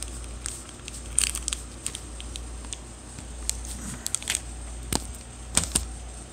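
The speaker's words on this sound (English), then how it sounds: "Now I'm going to cut it with scissors." Scissors cut through packing tape with a few sharp, crisp snips and slight crinkling of the tape, close and quiet, with no talking.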